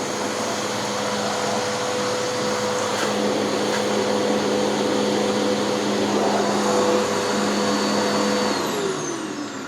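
A Eureka The Boss vacuum cleaner runs steadily and loudly at close range with a constant motor whine, then starts to wind down near the end, with no voices.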